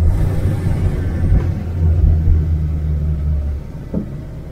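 A Renault 4L Super's small engine drones while driving, a close, steady low rumble that swells slightly and eases off toward the end as the car rolls on, with no talking.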